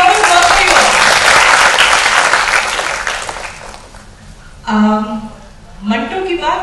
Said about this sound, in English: A big round of applause for you.